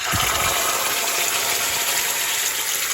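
Hot water gushes out of a cooking pot in a home kitchen while making spaghetti and meatballs, a steady loud pouring rush with a faint mechanical hum behind it and no talk.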